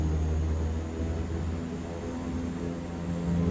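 Steady engine roar of a heavy Super Scooper seaplane powering up for takeoff from runway 7 in MSFS 2024, a continuous broadband drone with low harmonic hum holding level throughout, no voices.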